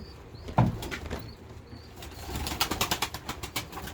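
Domestic pigeons, tumbler-type birds from a rooftop loft in Kars, flap their wings while being released into the air, a sharp burst followed by a run of rapid, repeated wingbeats close by, with no talk.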